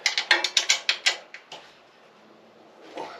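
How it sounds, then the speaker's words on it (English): A ratchet-style wrench clicks rapidly while turning a bolt on a lawn mower, a quick run of about eight close, crisp clicks followed by a couple of slower ones and a faint scrape. "I could do it old-fashioned way and just put a wrench on it."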